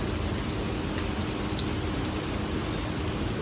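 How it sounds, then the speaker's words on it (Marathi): Heavy rain pours down in a dense, even roar of close, steady noise that never lets up, with no voices. "पाऊस थांबतच नाही. आयफोन मध्ये दिसणार नाही, पण पाऊस आहे जोरात."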